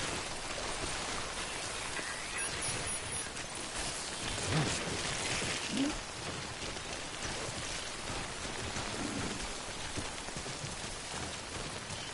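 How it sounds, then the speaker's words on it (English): Steady rain from the video game Death Stranding falls in a continuous dense hiss of drops pattering on surfaces, even and moderately loud throughout with slight swells, and no voices. "Don't stay out in the rain longer than you have to."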